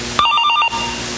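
A telephone rings once in a short electronic trill, loud and close, cutting off abruptly into a quiet room.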